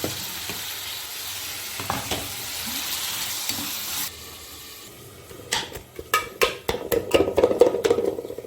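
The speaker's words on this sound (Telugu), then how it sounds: "ఇప్పుడైతే నేను టమాటో యాడ్ చేసేసుకుంటున్నాను" Onions and tomatoes fry in a pan for a gongura and prawn curry: an even sizzle for the first half, then a run of loud, irregular scraping and clattering stirs against the pan over the frying.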